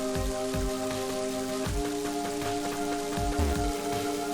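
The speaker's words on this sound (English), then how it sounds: "That's cold rain." Cold, unending rain in the video game Mother 3, a steady dense patter layered over looping in-game music with repeating soft low pulses, continuous and fairly loud with no talking.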